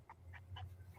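Dog whimpering indoors, a few quiet high whines in quick succession ending in a slightly louder yip, with a low hum behind.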